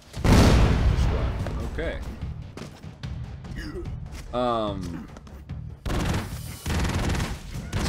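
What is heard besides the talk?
gunfire in the video game Broforce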